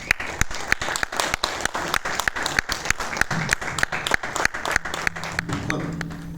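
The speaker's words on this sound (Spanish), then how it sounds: "Un aplauso para Luis Merino." An audience at a ghost-themed lecture bursts into steady applause welcoming a speaker, many hands clapping in a dense, even patter throughout, with a faint voice murmuring toward the end.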